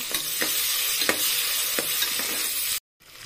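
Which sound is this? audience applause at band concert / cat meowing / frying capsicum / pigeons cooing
frying capsicum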